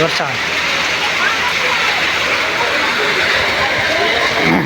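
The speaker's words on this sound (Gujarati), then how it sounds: "ફૂલ વરસાદ છે મિત્રો. અત્યારે તમે જોઈ શકતા છો." Loud, dense rain pours down steadily without a break over the fish market at Sartanpar port village, a constant hiss close at hand.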